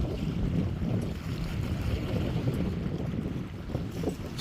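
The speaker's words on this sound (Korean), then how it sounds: "북서풍이 정면이거든요" Strong northwest wind blowing head-on at a seaside fishing spot by a breakwater, a steady loud roar buffeting the microphone throughout with no talk.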